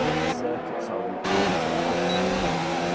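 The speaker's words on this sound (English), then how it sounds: "Unicorn is about to start lap 16 of 27 as he goes by the DRS line" Formula 1 race car engine in the F1 2019 racing game at the French Grand Prix, a steady loud roar passing by with a brief dropout before the engine tone returns, while a commentator talks over it.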